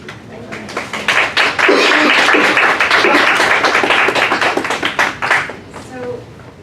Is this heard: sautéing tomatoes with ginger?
no